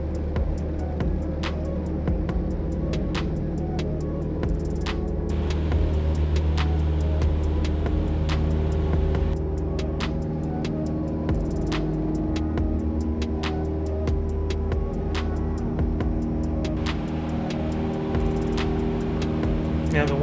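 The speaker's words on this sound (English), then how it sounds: "and here we go, taking off" Small training airplane engine during takeoff, a loud steady propeller drone with a rapid pulsing beat, holding strong throughout as the plane climbs away.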